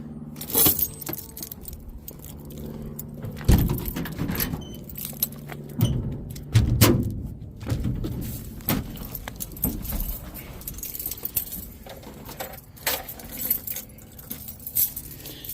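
Keys jangling on a heavily loaded key ring beside a 1970 Dodge D100 pickup truck, with repeated close metallic jingles and clinks in irregular bursts over low vehicle and handling noise.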